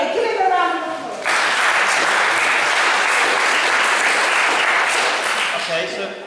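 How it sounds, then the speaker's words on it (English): Audience applause at a recruiting talk, a voice speaking briefly over the room before a full, loud wave of clapping swells in and holds steady, tapering slightly at the end. "Give him a round of applause."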